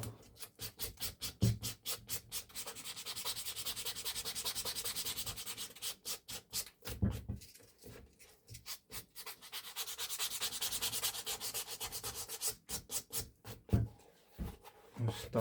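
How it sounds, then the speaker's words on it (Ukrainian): Leather being sanded with 800-grit sandpaper during a liquid-leather repair of a torn scuff: close, steady rasping strokes in long rhythmic runs, broken by short pauses and a few soft knocks. "Зараз візьмемо 800 наждачечку."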